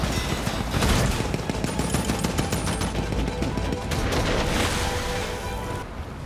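Heavy, continuous gunfire in a World War II Atlantic naval battle between a destroyer and U-boats, dense rapid bursts and booms, loud and sustained, with machine guns and larger guns firing together.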